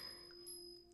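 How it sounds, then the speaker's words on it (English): A small hand bell rings once, a clear sustained high tone that lingers and slowly fades, quiet and alone. "I feel like ringing this little bell here."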